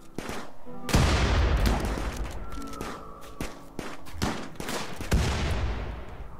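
Gunfire in the colony game RimWorld, repeated sharp shots and bursts that come in several loud clusters across the stretch, with short quieter gaps between volleys.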